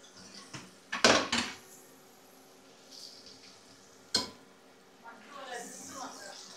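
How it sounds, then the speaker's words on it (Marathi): Garlic tossed into hot butter in a pan, bringing sharp clanks of a utensil against the pan and a light sizzle, interspersed with talk. "तेच भाशेन गेलो बटर जालो गरम. थोडेशें उडोवया लसूण"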